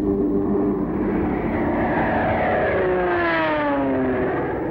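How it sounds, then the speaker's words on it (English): Carrier aircraft in WWII attack footage, loud droning piston engines sweeping past with rising and falling pitch, one plane roaring close by, continuous with no speech. "the carrier planes continued to press the attack"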